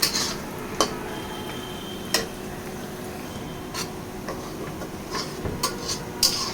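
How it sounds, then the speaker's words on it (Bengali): Onion frying with cardamom and cinnamon for bhuna khichuri, a soft background sizzle broken by a few sharp clinks and scrapes of a spoon stirring against the pan. "পেঁয়াজের সাথে এলাচ আর দারচিনিটা ভালোভাবে ভেজে নিচ্ছি।"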